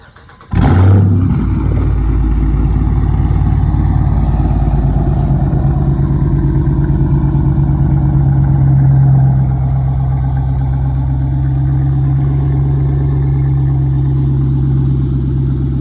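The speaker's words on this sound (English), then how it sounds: "give you guys a warm start, not a cold start, because I drove it to this park over here" A Dodge Charger engine warm-started outdoors in a park: a sharp crank and catch, a brief loud flare, then a steady deep idle that eases slightly lower after several seconds.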